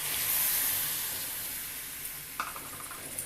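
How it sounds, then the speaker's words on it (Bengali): Water poured into a hot pan of mixed winter vegetables: a loud sizzling hiss that bursts up then gradually fades, followed by a few soft stirring clinks. "আমি এখন কিছুটা জল সিদ্ধ হওয়ার জন্য দিয়ে দেবো"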